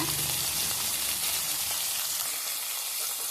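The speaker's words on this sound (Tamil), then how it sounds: "நல்லா ஃப்ரை பண்ணிக்கலாம்." Onion, garlic and tomato fry in a pan for a fish curry, giving a steady, loud broadband sizzle that fades slightly toward the end, with no voices.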